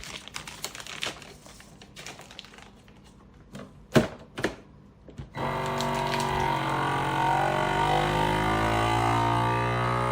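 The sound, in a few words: vacuum sealer sealing cheese in a vacuum bag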